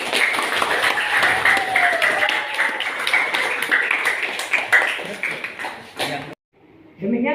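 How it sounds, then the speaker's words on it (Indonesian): Classroom applause for a student group's presentation, a burst of many hands clapping with voices mixed in, stopping abruptly near the end. "Beri aplaus buat kelompok 2."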